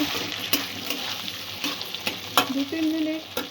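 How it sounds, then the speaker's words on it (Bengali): Sweet potato pieces sizzle in hot oil with a steady frying hiss, stirred now and then, with a few sharp spatula knocks and a brief tonal squeak near the end. "তেলে ভেজে নেব আলুটা।"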